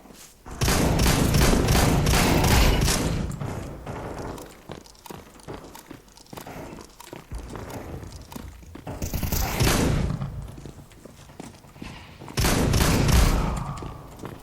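Gunfire in the Counter Strike 2 video game: loud bursts of shots and thuds, several clustered volleys with quieter stretches between, mixed with footsteps and game effects.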